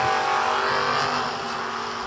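Drag racing launch of a Camaro and a Vega side by side, a loud, dense engine roar holding steady with a slight fade toward the end, alone without voices.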